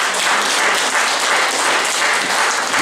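Sustained applause from an audience at a poetry almanac presentation, a dense, steady wash of clapping that stays loud and even throughout with no break.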